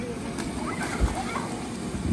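Splash of someone jumping into a backyard swimming pool at a child's birthday party, a single brief watery slosh midway with faint background voices.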